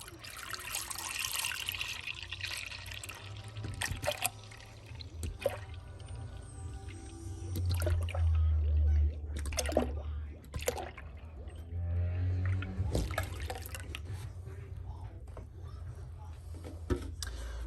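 A full gallon of whole milk pours into a crock pot as a steady liquid trickle and splash, with fairly constant pouring running under low background noise for most of the stretch.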